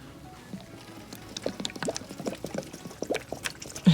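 Water is poured into a stripped part during a BMW R75/6 motorcycle teardown to test whether it holds liquid, heard as a close run of trickles and splashes that builds in loudness toward the end.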